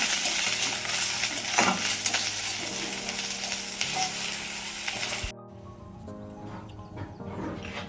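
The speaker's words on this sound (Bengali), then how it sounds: "দিয়ে দেবো একটু জিরে গুঁড়ো মশলাটাকে আমি একটু ভালো করে কষিয়ে নেব" Cumin powder and spice masala sautéing in a pan, with a steady sizzle and occasional scraping stirs and clinks, the frying noise dropping away abruptly near the end.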